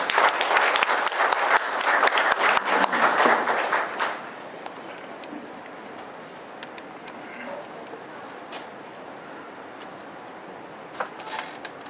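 Audience applause at a residents' briefing on a Mia-dong housing redevelopment in the Gangbuk district office, welcoming the district head to the stage; dense clapping for about four seconds, then fading to a quieter hall with scattered sounds.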